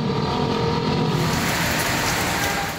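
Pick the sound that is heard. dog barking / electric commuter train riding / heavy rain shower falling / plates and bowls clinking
heavy rain shower falling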